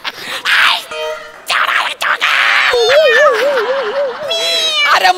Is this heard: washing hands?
no